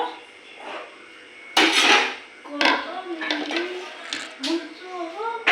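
Cooked vermicelli (semai) being poured out of a pot, marked by a few sharp metallic clanks and knocks of pot and utensil, with a voice talking between them.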